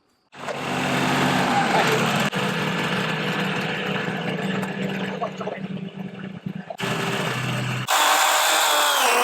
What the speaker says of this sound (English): Right now we are using the tractor to lift up the log